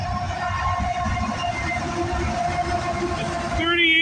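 CN M302 eastbound freight train, led by locomotive 3181, passes steadily with a continuous rumble and rhythmic wheel clatter, then a horn sounds near the end, at Burlington West on the Halton Sub at sunset.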